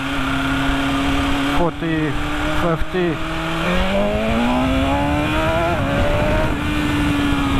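A BMW S1000RR sport bike accelerates hard with the throttle opened, its engine note climbing steadily through the revs with brief dips at gear changes, loud and close amid wind noise, while a rider talks over it.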